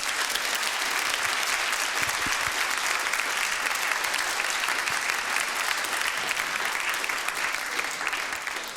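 Sustained studio audience applause at the end of a televised Question Time debate, a dense, steady wash of clapping from a large crowd, loud and even throughout with no talk over it.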